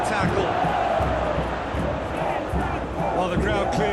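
Stadium crowd in a PES 21 football match, India versus Brazil, roaring and cheering in a dense, sustained wash throughout, with a commentator's voice running underneath.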